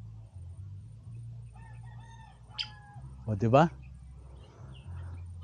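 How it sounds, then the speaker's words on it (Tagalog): A rooster gives one clear, fairly close crow at a raw motocamping site, over a low steady hum, with a person speaking briefly. "Ganda ng huni ng ibon."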